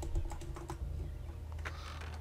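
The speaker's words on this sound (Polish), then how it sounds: "Jak usłyszycie klawiaturę, to wybaczcie." Computer keyboard typing sits just behind a microphone during a Gothic 2 Night of the Raven game session, heard as a quick burst of light, irregular key clicks, faint and close, with no talking.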